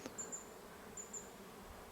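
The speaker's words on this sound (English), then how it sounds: "all these bees just started flying out of the cave" Bees buzzing at a hillside cave in the Superstition Wilderness, Arizona, on a hot day; a faint, steady insect drone with a few brief louder passes, heard from a distance with no talking.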